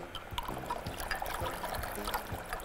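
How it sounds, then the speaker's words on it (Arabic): Water is poured into a dish during cooking, with a faint trickling splash and scattered small clinks and knocks of kitchenware, quiet and close, with no speech. "ونزود كده ميه"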